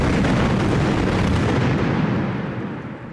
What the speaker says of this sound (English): where the dragonfire lands, you'll see all the pyrotechnic charges going off